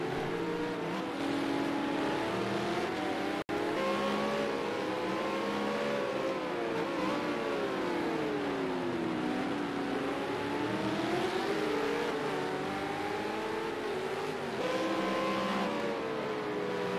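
V8 Supercar race cars racing at Circuit of the Americas, high-pitched engines rising and falling as they shift and pass, a steady loud roar throughout with no talk.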